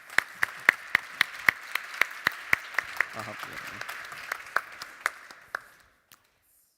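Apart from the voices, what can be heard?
audience applause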